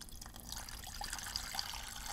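Water poured from a pitcher into a basin, a steady soft splashing trickle lasting about two seconds, fairly quiet and close, with no talk over it.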